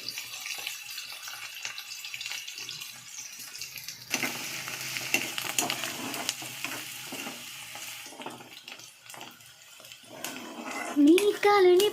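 Onions and green chillies frying in hot oil for a farm chicken curry, a steady crackling sizzle that grows louder partway through, with a melodic tune rising near the end.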